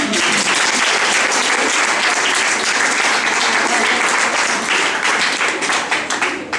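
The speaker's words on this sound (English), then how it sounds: "give a real big round of applause" Loud, sustained applause from a large crowd, dense clapping throughout that thins slightly toward the end.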